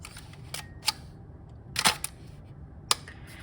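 Leica R6 35mm SLR film camera, its winding lever advanced with a few crisp mechanical clicks and a brief ratcheting sweep, close and isolated against quiet room hiss.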